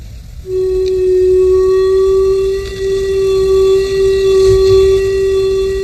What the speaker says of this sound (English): What you're hearing is the rate of cosmic ray particles hitting the detectors